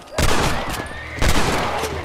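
Gunfire in the Red Dead Redemption video game: two loud, close bursts of rapid shots, each lasting about a second.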